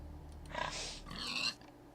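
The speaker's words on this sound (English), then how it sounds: "Then I have a wild pig." Minecraft wild pig from the video game, two short grunting snorts in a row, the second longer, close over quiet background.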